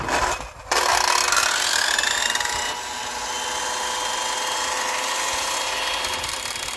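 A power drill running outdoors on a long extension cord in winter, a steady whirring grind after a brief dip at the start, continuous and fairly close with a slight drop in pitch partway through.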